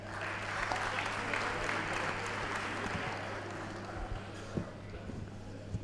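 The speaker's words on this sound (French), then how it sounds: "On applaudit Monsieur Didier Akouete." Audience applauding an award presenter at a business awards ceremony, a sustained moderate patter of clapping with a low steady hum beneath and a few sharper claps near the end.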